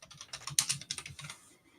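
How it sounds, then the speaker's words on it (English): Rapid clatter of computer keyboard typing, a close burst of uneven keystrokes that slows and fades near the end, with no talking. "Somebody's typing."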